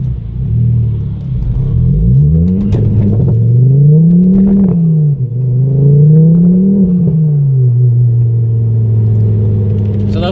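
Ford Focus ST with a turbocharged 2.5-litre five-cylinder engine, around 325 hp and modified, heard from inside while driving: a loud, steady engine drone that rises and falls through several rev swells, with no talk.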